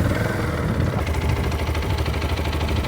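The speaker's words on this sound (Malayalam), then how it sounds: "നമുക്ക് എന്തായാലും ഇതിൻ്റെ എഞ്ചിൻ സൗണ്ട് ഒന്ന് കേട്ട് നോക്കാം." A TVS Apache RTX 300 liquid-cooled 300cc motorcycle engine running, a steady close low rumble with an even pulsing throb and no talking.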